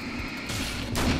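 A shotgun firing in the horror action game Alan Wake's American Nightmare, a close, heavy blast rising over a steady background of game ambience, with a second burst of noise following about a second later.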